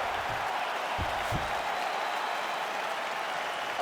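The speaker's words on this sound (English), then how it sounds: "the crowd voicing its appreciation after that crazy sequence in the previous round" Arena crowd applauding between rounds of a UFC 5 video game bout between Ilia Topuria and Nate Diaz, a steady broad wash of clapping and cheering that holds evenly throughout, with a few low thumps near the start.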